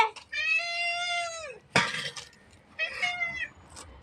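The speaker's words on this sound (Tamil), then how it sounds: "எத்தனை பூனைங்க வந்தாங்க இந்த வீட்டில் இருக்க பார்த்தாங்க" Cats meow indoors in a home, with one long drawn-out meow followed by a sharp clack and then a second shorter meow, close and clear.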